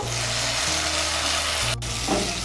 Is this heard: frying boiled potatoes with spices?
yes